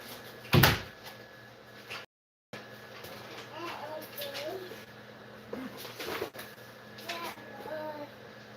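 A door closes with a single sharp thud near the start, followed by quiet indoor room tone and faint murmuring in a shop.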